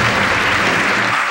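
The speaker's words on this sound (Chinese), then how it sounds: "我们热烈掌声来给我们的奥运选手加油" Applause from a studio audience on a variety game show, a dense, loud, continuous burst of clapping that fills the whole short stretch without voices.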